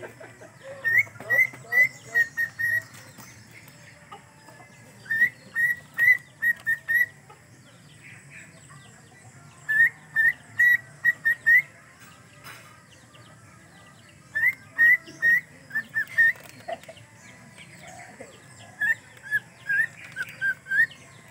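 A bodots bird sings in repeated short bursts of bright whistled notes, each group of four or five spaced a few seconds apart, fairly clear over a quiet background.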